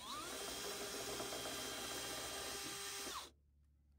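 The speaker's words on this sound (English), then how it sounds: "I'm just going to drill from the top here and open that hole up a little bit" A power drill whirs steadily as it bores through wood in a truck bed, a loud, continuous grinding drone that cuts off abruptly near the end.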